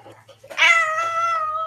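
A pet cat held upside down lets out one loud, drawn-out meow close by, rising and sustained with a whiny, complaining tone, after faint indistinct background murmur.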